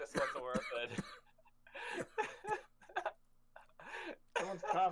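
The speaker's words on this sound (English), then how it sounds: "I'm coughing." A person with a cold coughs in several harsh, rough bursts between short gaps, close and fairly loud, with a little throat clearing mixed in.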